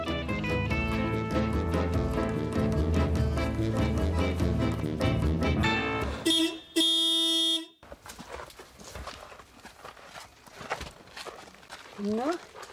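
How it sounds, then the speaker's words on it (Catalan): A shop van in rural Lithuania sounds its horn once in a single sustained blast after a stretch of music, followed by quieter outdoor sounds and voices. "Jo, quan la veig, m'aturo i toco la botzina."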